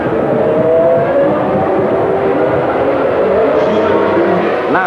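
Formula One race cars from the 1994 season roar at racing speed, a continuous loud engine wash with steady high-pitched whine and no gaps.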